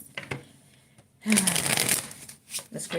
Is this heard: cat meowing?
no